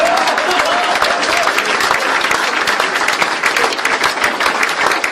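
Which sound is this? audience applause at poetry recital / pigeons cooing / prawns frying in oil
audience applause at poetry recital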